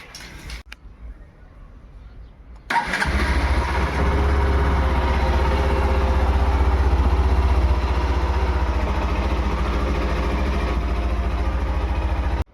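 A motorcycle that has sat unused for two weeks starts abruptly after a short quiet stretch, then settles into a steady, loud, continuous idle that runs close by to the end with no voices.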